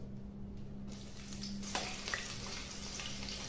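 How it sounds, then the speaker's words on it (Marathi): Two to four chilli pieces fry in hot oil, producing a faint, steady hiss of sizzling with a few small crackles throughout. "आता घेते मी 2-4 मिरचीचे तुकडे जे आपल्याला तळून घ्यायचे आहेत"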